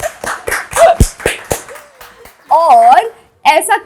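A talk-show audience welcomes a guest with a short run of sharp, separate claps. Voices follow, speaking in drawn-out, sing-song tones.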